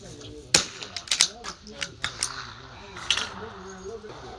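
A .22LR benchrest rifle at an outdoor range firing several sharp, snappy shots in an irregular sequence, some closely spaced, with light mechanical clicks and handling noise between them.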